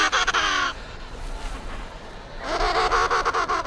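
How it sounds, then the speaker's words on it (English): Emperor penguins calling, two loud harsh braying calls with layered, wavering tones, one at the start and one near the end, separated by a quieter windy gap. "emperors can produce 2 sounds at once, giving each a unique voice."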